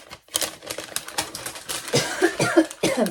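A sick vlogger with a tickling, irritated chest coughs several times in quick, harsh bursts, close to the microphone, with clattering tapping noises around the coughs.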